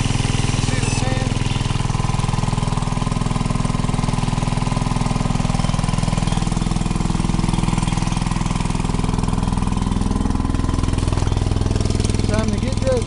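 A small engine on a gold prospecting dredge runs steadily beside a riverbank, a loud continuous mid-pitched drone with constant throbbing that never lets up and drowns out other sounds.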